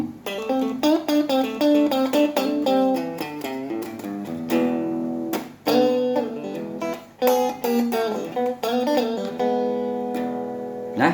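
An electric guitar on mixed pickups plays a busy, ringing phrase of quick picked notes and brief chords, up close, with a brighter, fuller tone and no talking.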